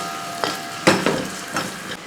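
A spoon scrapes and stirs onions, chilli and Kashmiri chilli powder in a pan for a Kerala tomato curry. Four or five close, distinct scraping strokes come through over a soft sizzle, with no voices.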